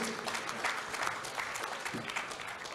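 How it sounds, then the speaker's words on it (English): Audience giving a round of applause at a panel event on technology and India's future, a steady, even patter of many hands clapping, moderately distant and fairly quiet throughout. "So can we have a bigger round of applause for this?"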